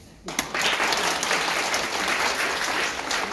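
Audience applause at a women veterans' political support rally in Korea, breaking out sharply after a brief pause and holding as dense, loud clapping from a crowd of around a hundred people.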